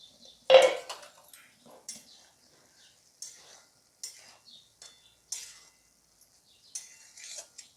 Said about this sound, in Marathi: आपण एकदा मधून ही भाजी हलवून घ्यायची आहे